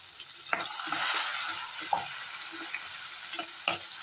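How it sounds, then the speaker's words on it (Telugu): Chopped onions and green chilies frying in oil as they are stirred for a cucumber tomato curry, a steady hissing sizzle with a few crisp spatula scrapes, close and fairly quiet, no voices. "ముందుగా కట్ చేసుకున్న ఆనియన్స్ అలాగే మిర్చి వేసుకొని ఒకసారి కలుపుకుందాం"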